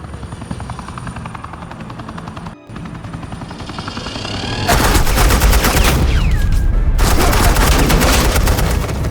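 Suppressing gunfire in the Batman: The Enemy Within video game: after a quieter stretch with a helicopter-like drone, loud dense bursts of automatic fire break in halfway through and continue, with a short gap, to the end.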